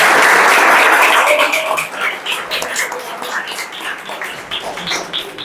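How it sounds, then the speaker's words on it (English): An audience at a college event applauds, a loud, dense burst of clapping that gradually thins into scattered individual claps. "So, give a big applause."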